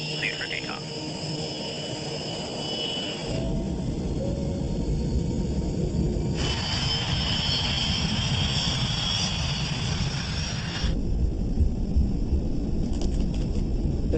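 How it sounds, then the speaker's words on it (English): West Caribbean jet airliner on its takeoff roll from runway 21 left in Panama at night, a broad steady engine roar and rumble that swells and holds for several seconds, with voices speaking over it. "runway 21 left, clear for takeoff."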